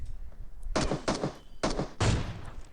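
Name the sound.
gunshots in the video game PUBG Mobile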